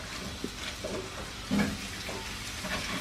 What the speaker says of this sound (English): Hear that sizzling, hear that cracking.